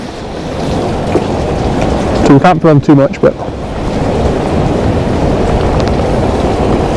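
Blustery wind and rough water at sea during dreadful wet weather on a cod fishing trip, a steady broadband roar with someone talking briefly over it in the middle.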